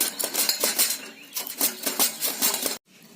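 Potatoes being grated by hand on a metal grater over a bowl of water, rhythmic rasping strokes, roughly a dozen repeated scrapes close up, ending abruptly.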